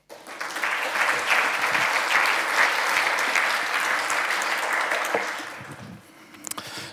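An audience at a web developer conference, DevFest Switzerland 2018, applauds to welcome a speaker to the stage. The clapping is sustained and close, then fades in the last seconds.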